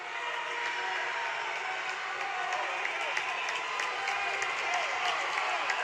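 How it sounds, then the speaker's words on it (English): Crowd cheering and screaming at an indoor boys' 200-yard medley relay swim meet, a continuous dense roar of voices with scattered whistles and shouts, sustained and fairly loud throughout, with an announcer talking over it. "The crowd really getting into this boys' 200-yard medley relay."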